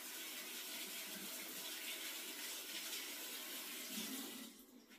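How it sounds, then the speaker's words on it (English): Tomatoes are washed under a running kitchen tap: a steady, close hiss of flowing water that carries on evenly, then cuts off near the end. "And we'll wash some of these tomatoes and add some of these."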